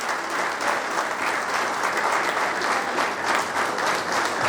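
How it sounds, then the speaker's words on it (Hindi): Audience applause welcoming a guest speaker, Shri Swapnil Wankhede, at a Jawahar Navodaya Vidyalaya gathering: a dense, steady wash of many hands clapping, loud and sustained, with no voices over it. "तो मैं आप सबसे एक बार निवेदन करूंगा कि जोरदार तालियों से स्वागत करें"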